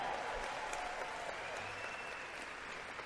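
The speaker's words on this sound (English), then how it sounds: "Another round of applause, please." A crowd at a political brunch applauds in a steady, continuous wash of clapping, moderately distant and even throughout.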